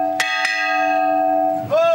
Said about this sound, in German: Der Glockenschlag, das sogenannte Glasen, kündigt den Wachwechsel an.